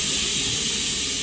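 A gas stove burner hisses with a steady, loud, even rush of escaping gas, unbroken for the whole short moment.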